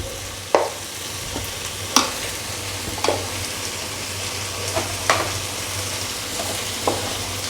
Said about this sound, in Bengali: দিয়ে এবার ভালো করে কষিয়ে নিলাম